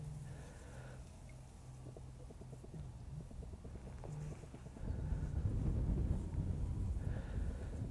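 Wind gusting across a fishing lake, a low, rumbling buffet against the microphone that grows stronger halfway through, with no talking.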